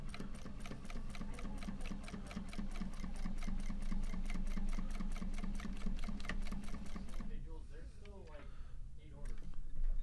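A Juki 1541s industrial walking-foot sewing machine stitches slowly with a rapid, even ticking rhythm that stops near the end. Someone talks over it.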